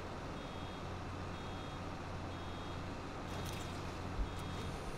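Steady electronic reversing beeps from a farm vehicle in Farming Simulator 22, sounding at an even rhythm over a constant low engine hum, with no talking.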